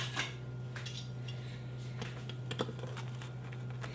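Knife slicing through a hot gluten-free vegan quinoa flatbread, a run of light, crisp cuts and taps over a steady low hum, close and moderately quiet.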